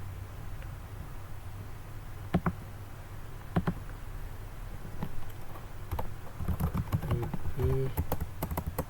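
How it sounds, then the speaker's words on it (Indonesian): Computer keyboard typing out a command, sparse individual key clicks at first, then quicker bursts of tapping toward the end, quiet and close over a faint background hum. "Apa perlu kita ketik manual?"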